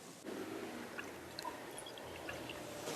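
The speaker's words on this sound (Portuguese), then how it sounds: "eu vou colocar aqui 50 ml da gasolina do posto A nessa proveta" Gasoline from a filling station poured into a glass graduated cylinder in a school chemistry lab, a steady soft liquid splashing and trickling throughout, close and fairly quiet with no talk.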